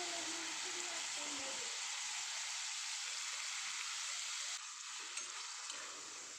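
Tomatoes frying in a pan for Mumbai-style pav bhaji give a steady close sizzle and hiss throughout, softening slightly near the end, with faint clinks of stirring.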